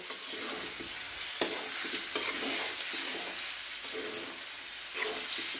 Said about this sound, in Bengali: এখন ভাজা ভাজা করে ওই ঝোলটা দিয়ে তারপরে কয়টা বলক দিয়ে উঠিয়ে নিব।